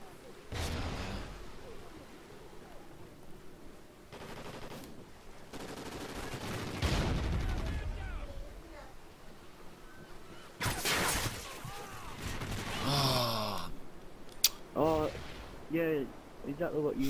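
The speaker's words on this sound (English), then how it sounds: "They shot one and another one came in and shot me." Gunfire in the online shooter game Ghost Online, with bursts and single shots of varying loudness scattered across the clip, mixed with other game sounds and players talking.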